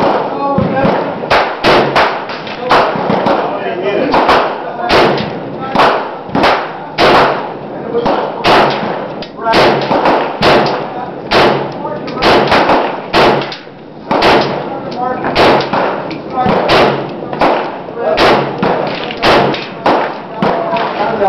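SKS rifle gunshots at an outdoor shooting range, a long string of loud, sharp reports fired in quick irregular succession, close by, with brief talk between shots.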